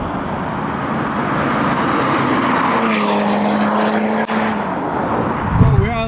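A Stage 3 tuned BMW 430d diesel with a larger turbo accelerates on a road, a loud sustained engine roar with a rising whine, heavy wind rumble, and a faint voice near the end.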